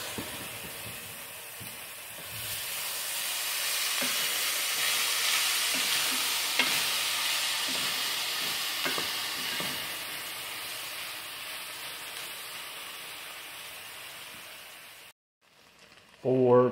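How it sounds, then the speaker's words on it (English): Broccoli and corn fry in a hot pan with a steady, bright sizzle and occasional scraping stirs, holding for several seconds before cutting off abruptly near the end. "we're gonna throw the broccoli back in our pan and our corn. And we're gonna cook that for about 4 minutes"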